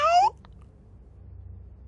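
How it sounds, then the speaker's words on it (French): A cat gives one short meow near the recorder, then only faint low background hum remains. "Ah, le chat."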